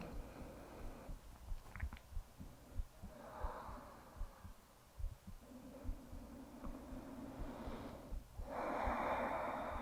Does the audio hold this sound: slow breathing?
yes